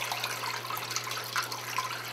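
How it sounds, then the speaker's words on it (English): A PAN6320W portable washing machine drains water after its wash cycle, a steady rushing and gurgling flow over a constant low motor hum. "After the wash cycle is finished, it's going to drain so that it can apply fresh,"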